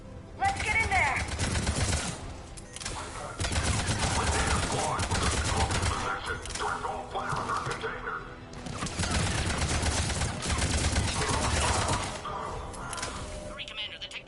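Sustained automatic gunfire in a video game firefight against Cerberus, loud bursts coming in long volleys separated by brief lulls, with voices shouting over the shooting.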